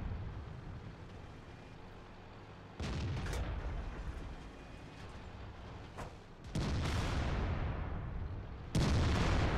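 A T-54 light tank's main cannon fires in a tank battle video game, three loud broadband blasts spaced a few seconds apart over a continuous rumbling engine and battlefield din, with no speech.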